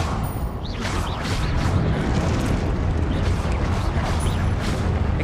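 A Confringo blasting spell exploding in Hogwarts Legacy combat, a sustained loud rumbling blast with crackling bursts and whooshing magical sweeps layered through it, continuous for several seconds.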